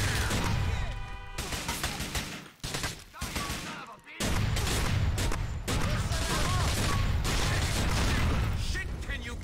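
Heavy automatic gunfire in the video game GTA IV: The Ballad of Gay Tony rattles in dense, loud continuous bursts with brief gaps, mixed with game effects and occasional voices.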